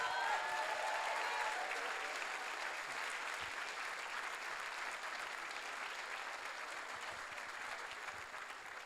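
A graduation ceremony crowd at Cégep Limoilou gives teachers a warm, sustained round of applause, with dense clapping from a large audience holding steady and slowly tapering off toward the end.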